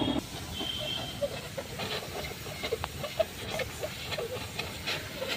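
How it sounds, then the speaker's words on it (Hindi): A hot-air plastic welding gun working on a vehicle bumper: a steady close hiss of blowing air with faint irregular pops and ticks, no talking. "वेल्डिंग करी जा रही है और आवाज़ पुक पुक पुं पा पुं ऐसी आ रही है"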